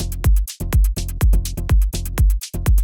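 Melodic techno beat built in Ableton, with a shaker layer riding over a driving kick and bright hi-hats: steady, loud, looping sixteenth-note pattern with punchy low thumps about every half second.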